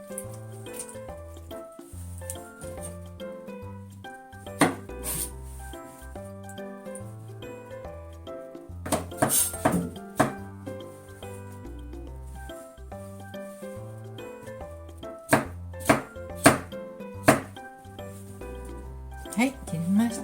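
A kitchen knife chops mushrooms on a cutting board for a simmered mushroom tsukudani: irregular sharp taps and quick clusters of cuts, close and clear, over soft background music.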